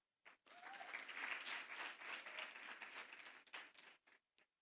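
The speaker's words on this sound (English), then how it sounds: "a round of applause for all of you who found it very important to be here today" A crowd of young people at a youth address by the Vice President of Botswana bursts into sustained applause, dense and steady, rising then tapering off with a few scattered claps at the end.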